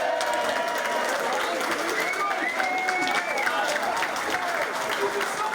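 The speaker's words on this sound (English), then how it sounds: "Tom Hannigan, Jake Moll, Josh Hancock, all deserve a massive round of applause." Applause and some cheering fill the room at a football club awards evening, with a steady wash of clapping from a crowd and voices heard within it.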